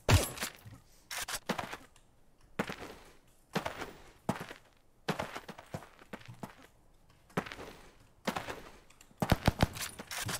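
Gunfire in a video game, sharp bursts of shots in separate clusters with short quiet gaps between them, loud and close.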